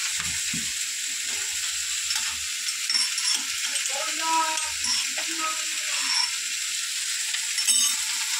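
Ginger paste fries in a pan with a steady, bright sizzle, punctuated by occasional scraping and clicking as it is stirred, close and moderately loud throughout.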